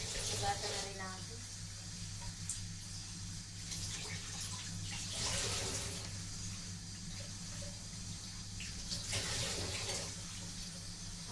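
Tap water runs steadily while mussels and cabbage are rinsed in a home kitchen, a continuous hiss with splashy surges, with a person speaking over it.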